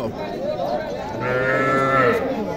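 A young native calf moos at a Naogaon Mahadevpur cattle market, one drawn-out call swelling louder toward the end over a busy crowd murmur.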